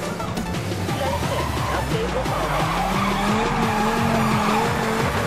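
A Dodge SRT Viper GT in the Need for Speed: Most Wanted (2012) racing game skids through a 180-degree spin, loud sustained tire squeal rising and bending over a roaring engine, continuous and close.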